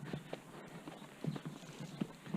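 A horse's hooves clip-clop in an uneven walking rhythm on a racetrack, soft and somewhat distant, over steady outdoor background noise.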